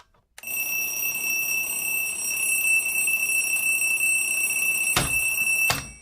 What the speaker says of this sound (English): because once that alarm goes off,